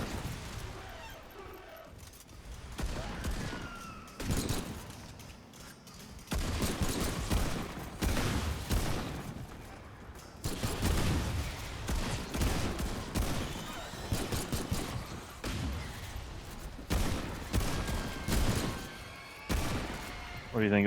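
Gunfire in the video game Remnant 2: dense, sustained bursts of shots and booms that run almost continuously, loud and busy, with voices talking over parts of it.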